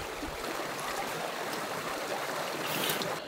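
A New Zealand mountain stream rushes and burbles steadily close by, a continuous hiss of small flowing water with no voices.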